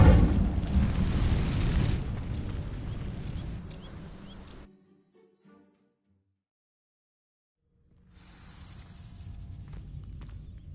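Incendio fire spell igniting dry vines in Hogwarts Legacy, a loud burst of crackling flame that fades over a few seconds, then silence before a renewed rustling burn.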